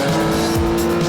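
Singer-modified Porsche 911 with an upgraded 3.8-litre flat-six engine, lightweight aluminium body and seven-speed manual gearbox, driven hard with a loud, steady engine roar close by.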